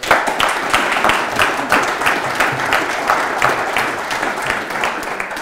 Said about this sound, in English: So I am going to ask for a round of applause for our panel